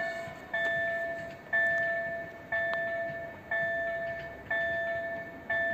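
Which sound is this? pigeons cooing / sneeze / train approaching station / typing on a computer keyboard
train approaching station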